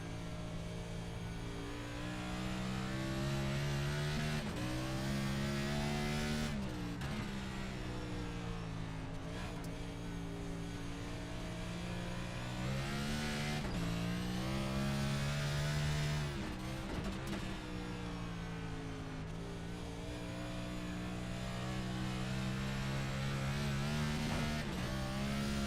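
Race car engine revving on a dirt oval track at Bristol, loud and close, rising and falling in long throttle sweeps for the whole stretch with no talk over it.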